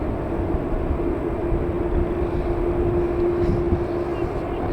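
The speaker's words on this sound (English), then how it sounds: "787 Dreamliner going to Doha, Qatar Airways" A Qatar Airways Boeing 787 Dreamliner bound for Doha at Manchester Airport produces a steady engine rumble with a sustained droning tone, while someone talks over it.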